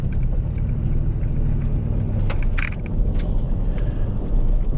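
A 2004-2008 Ford F150 pickup drives on the road, heard from inside as a steady low engine rumble and road noise, with a few brief clicks and rattles.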